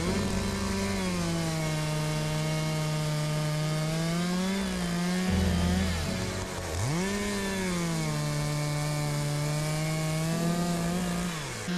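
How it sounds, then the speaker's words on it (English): An Echo CS-490 chainsaw cuts through a wet tree trunk while felling trees for firewood, its engine droning loud and close, dipping briefly mid-cut before surging back to a steady high whine. "the Echo chainsaw is having no problem getting through this."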